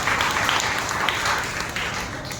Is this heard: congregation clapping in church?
yes